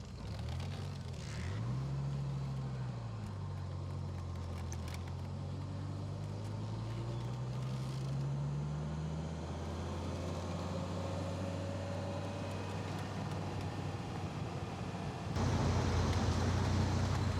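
A 1993 Dodge Viper cruising on the road, its engine drone rising and falling through steady gear changes under constant road and wind noise, with a louder surge near the end.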